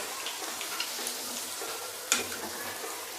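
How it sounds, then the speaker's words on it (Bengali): Chicken pieces fry in hot oil in a kadai for restaurant-style chilli chicken, giving a steady close sizzle with a single sharp clink or pop partway through. "এখন এভাবে আমি সব চিকেনগুলোকে ফ্রাই করে নিচ্ছি"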